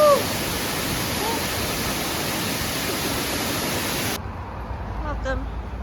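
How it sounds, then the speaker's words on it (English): The roar of a waterfall near Mt. Shasta fills the air as a steady broadband rush, loud and close, before it suddenly drops to a quieter wash. "to our fourth waterfall and our final waterfall of the day."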